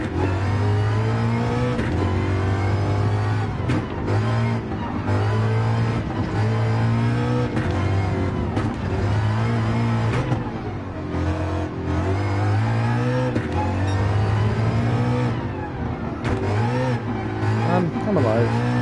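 Ford Mustang race car in Gran Turismo 7, its engine revving hard and cycling up through gears again and again in a steady, loud drone throughout.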